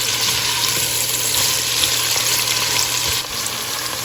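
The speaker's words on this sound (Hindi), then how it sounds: "प्याज हमें बहुत ज़्यादा ब्राउन नहीं करनी है, बस हमने थोड़े सॉफ्ट करने हैं।" Onions softening as they fry in oil in a pan, a steady close sizzle that continues throughout at an even level.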